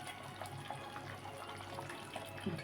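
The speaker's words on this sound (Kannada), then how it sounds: "ಇದಕ್ಕೆ ಸ್ವಲ್ಪ ನಾನು ನೀರು ಹಾಕ್ತಾ ಇದ್ದೀನಿ." Water is poured into a pan of methi chicken gravy as it cooks, a steady, even splashing and trickling rush that continues for a few seconds with no voices.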